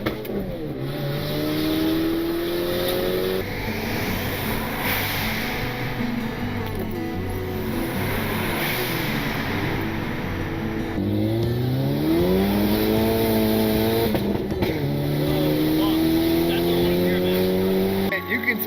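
A turbocharged eighth-generation Honda Civic running on E85 pulls hard under acceleration, its loud, close engine note climbing in pitch, dropping at gear changes and climbing again, with a voice talking over it.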